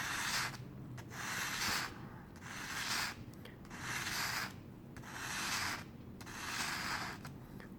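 A leather round punch is sharpened on sandpaper, moving from 600 to 1000 grit, with steady rhythmic rubbing strokes, about six back-and-forth passes, close and fairly quiet with no talk.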